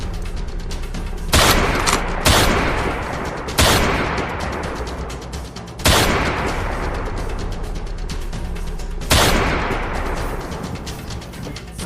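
Gunfire during a police standoff: five or six loud, separate shots ring out at irregular intervals, each a sharp crack followed by a long echoing decay, with no talking.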